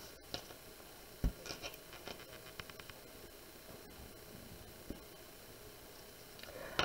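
Soft, scratchy strokes of colored pencil on paper while drawing feathers, quiet and close, with irregular light taps and rustles against a faint hiss.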